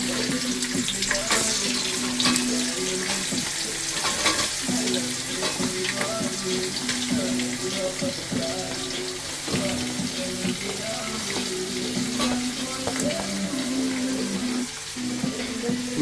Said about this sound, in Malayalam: വലിയ ഉള്ളി ഇട്ട് കൊടുക്കാം.